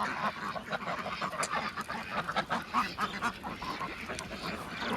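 Ducks at a duck farm, heavy birds of about four to five kilograms each, keep up a dense, continuous chorus of quacks and honks, close and busy throughout with no talking.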